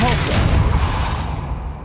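A Depulso force spell cast in the Hogwarts Legacy video game, a single forceful whooshing blast that hits at once and then fades over a couple of seconds, loud and close.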